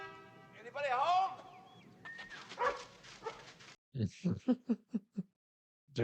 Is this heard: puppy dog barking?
yes